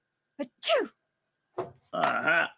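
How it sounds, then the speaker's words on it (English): A sneeze sound effect played back, a quick sharp inhale-and-burst pair followed by a second longer, voiced sneeze, close and clear against silence. "There's a sneeze."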